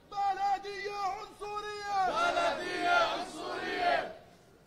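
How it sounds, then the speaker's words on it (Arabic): Protesters at a demonstration against house demolitions in Jabal al-Mukaber, Jerusalem, chant slogans in loud rhythmic unison, a lead voice calling lines and the crowd shouting back in repeated bursts. "نستمع الى هتافات المقدسيين"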